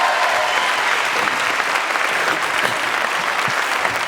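An audience applauds André Santini at an evening television show, a steady, dense wash of clapping from a large crowd that stays loud and even throughout, with no voices over it.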